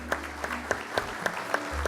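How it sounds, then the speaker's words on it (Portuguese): An audience at a health and technology panel applauding after a moderator is introduced, sparse rhythmic clapping with distinct individual claps over a low room hum. "Eu vou pedir uma salva de palmas."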